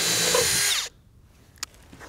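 Power drill whirs steadily for under a second as screws tack Skate-lite panels in place on a wooden skate box, then cuts off, followed by quiet room tone and a faint click.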